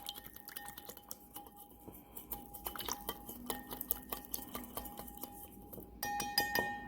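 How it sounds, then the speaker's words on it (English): Salad dressing with mustard is whisked in a container, giving quick, light clinks and taps in a steady rhythm, close but fairly quiet, growing busier toward the end. "And then we will whisk it up"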